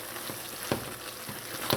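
Baking powder is stirred into curry chatigne made from katahar in a pot, with a low steady sizzle and a few soft scraping spoon strokes close by, and no voices.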